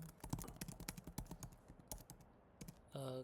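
Keys clatter on a computer keyboard in quick irregular bursts of close, crisp clicks, pausing briefly before a short tonal electronic sound at the end.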